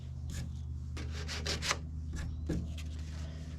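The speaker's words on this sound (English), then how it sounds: "I might just try to lightly sand this." A repaired surfboard tail is lightly hand-sanded in quick bursts of rubbing strokes, close and moderately loud over a low steady hum, with short pauses between groups of strokes and no talking.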